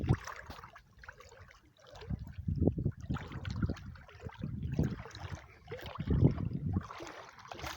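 A small fishing boat moves through open water, with splashing and sloshing swells rising and falling in loose waves throughout, close and moderately loud, carrying no speech.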